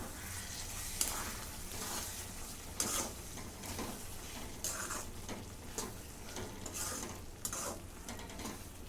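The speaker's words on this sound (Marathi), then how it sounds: "आता याच्यामध्ये कसुरी मेथी आणि हा थोडासा मसाला मी बाजूला ठेवला होता मिक्स करून घेते" A spoon stirring chole masala with kasuri methi in a sizzling pan, scraping strokes repeating every second or so over continuous frying hiss, fairly close and with no voices.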